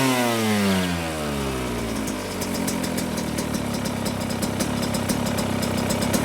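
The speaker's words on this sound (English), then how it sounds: "you want it to where it's just barely idling before it dies" A 2024 Yamaha YZ125 dirt bike engine with a jetting issue idles with a low, uneven putter, dropping pitch at first then settling into a rough, steady chug up close.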